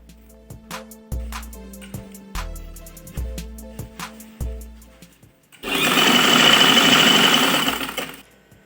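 A sewing machine stitches net fabric for a kurti, first in short separate thumping stitch bursts, then a sustained fast whirring run, close up with no talking.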